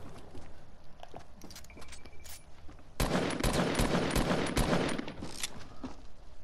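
Video game gunfire shot through a small slit up high: a quiet stretch of scattered clicks and pops, then a dense, loud burst of rapid shots filling the second half.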